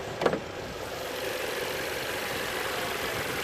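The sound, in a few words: Audi A3 5-cylinder TFSI engine idling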